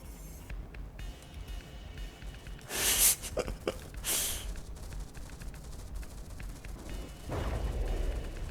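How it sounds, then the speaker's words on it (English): Missile impacts in a video game come as loud broadband bursts near 3 and 4 seconds, then a sustained rumbling blast late in the clip, over a constant low game-audio bed with no talking. "More missiles impacting over here."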